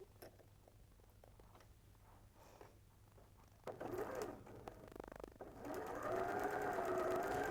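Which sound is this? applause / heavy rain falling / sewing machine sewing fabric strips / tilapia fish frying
sewing machine sewing fabric strips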